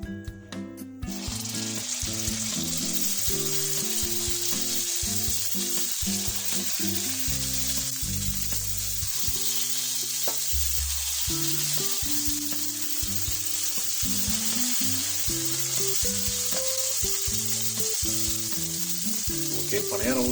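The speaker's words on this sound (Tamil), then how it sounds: "இப்போ நம்ம பணியாரம் ஊற்றிக்கலாம்." Kuzhi paniyaram batter sizzles in hot oil in a pan with a steady, bright hiss that carries throughout, with background music playing over it and no one talking.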